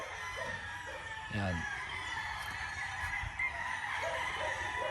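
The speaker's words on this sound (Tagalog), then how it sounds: "So napakarami pa rin talagang manok." Chickens and roosters at a gamefowl farm cluck and crow over a steady outdoor din, with one loud crow in the foreground and other birds calling further off while someone talks.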